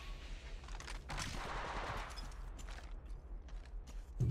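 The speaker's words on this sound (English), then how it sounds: "They're shooting at me!" Automatic gunfire in the mobile battle royale shooter Apex Legends Mobile, rapid bursts crackling continuously through the clip at moderate distance, with a dense layered fusillade and no talk over it.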